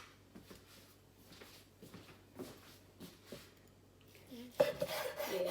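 A knife slices steak into thin strips with faint, repeated rasping strokes against a board, then a louder, busier scraping clatter at the end.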